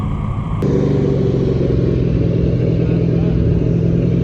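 Stock car engine running rough in an American stock car racing video game, a steady loud droning rumble throughout with a brief change in tone near the start.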